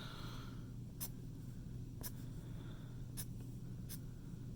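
Quick strokes of a Sharpie marker on paper while shading with ink, heard as four brief, sharp scratches spaced about a second apart over a low steady hum, close and faint.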